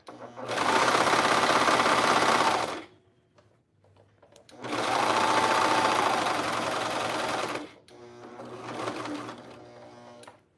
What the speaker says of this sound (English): I'll sew past that just a little bit to catch that, but I'll knot off